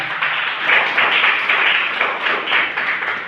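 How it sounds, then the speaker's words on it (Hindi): Audience applause at a Hindi poetry recital (kavi sammelan) at Government Engineering College Raipur: a steady, dense round of clapping from a crowd, swelling in gentle waves for a few seconds with no voice over it. "हालांकि आप लोगों ने ताली बजा दी"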